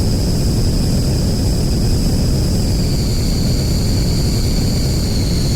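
Steady airplane engine drone from a flight video game, a loud continuous roar with a constant high whine on top, unchanging and close for the whole stretch with no voices.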